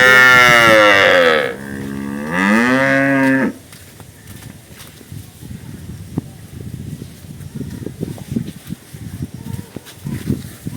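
A Sahiwal heifer calf lets out two long, loud moos close by, followed by quieter farmyard ambience with faint rustling and small knocks.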